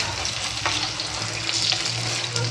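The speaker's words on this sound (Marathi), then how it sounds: "ह्या पद्धतीने आपण आता सगळे फ्राय करून घेऊया" Egg chilli pieces fry in a pan with hot oil, giving a steady, dense sizzle and crackle close by, with occasional stirring scrapes and no voices.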